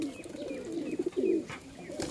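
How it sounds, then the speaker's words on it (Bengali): Pigeons of both local and foreign breeds coo inside a rooftop cage, giving soft, rolling, repeated coos close by with a few faint chirps in the background. "সব রকমের পায়রা আছে"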